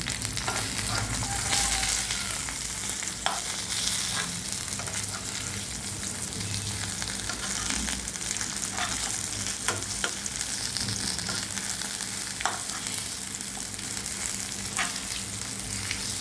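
Raw plantain slices fry in a pan with a constant soft sizzle and crackle, punctuated by a few light clicks and scrapes as the pieces are turned over.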